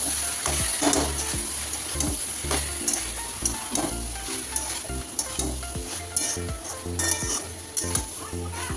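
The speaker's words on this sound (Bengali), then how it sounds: "এই যে সয়াবিনটা ছেটে দেওয়া হয়ে গেছে, এটা আমি একটু ভালো করে কষে নিই" Soybean chunks stir-fried in a pan sizzle steadily while a spatula scrapes and clinks against the metal in a quick, uneven rhythm, close and with no voices.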